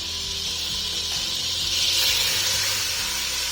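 Onion sizzling in margarine and butter at the start of a béchamel sauce, a loud continuous hissing sizzle with a low steady hum underneath and no talk.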